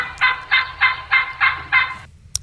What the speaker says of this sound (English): That would be a male turkey.